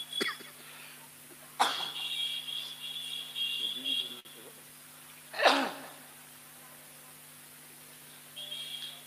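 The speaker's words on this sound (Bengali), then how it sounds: "কাশি হচ্ছে মাঝে মাঝে" A man with a fever-related illness coughs twice, with a few seconds between the harsh bursts, in a quiet room with a faint background hum and a little murmuring between the coughs.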